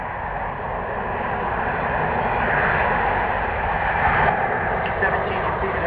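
C-17 military transport aircraft flying slowly past on final approach, a loud, steady engine roar that swells slightly midway, with someone narrating over it.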